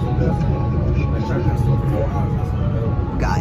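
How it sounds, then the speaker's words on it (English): A train rumbles past during a blizzard, a steady loud low roar and rattle that holds throughout while people talk over it. "After this fucking train moves."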